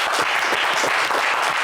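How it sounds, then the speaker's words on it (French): A television game-show studio audience claps loudly and steadily for a contestant, a brief dense burst of applause with no voices over it. "On vous applaudit."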